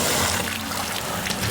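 Water gushing steadily from a garden hose into an 18-litre bucket outdoors, a loud, continuous splashing rush with no pauses.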